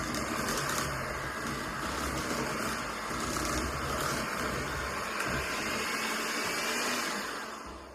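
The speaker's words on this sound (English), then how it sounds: "a little easier if we use our electric mixer" An electric mixer whirs steadily as it beats cream cheese for a cheese ball, giving a continuous close motor whine that fades slightly at the end.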